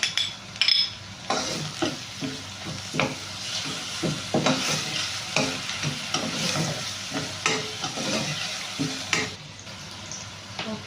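Green chili paste fries in a hot pan while a spoon stirs it briskly, giving repeated scraping strokes over a bright, crackling sizzle, close and fairly loud, with no voices.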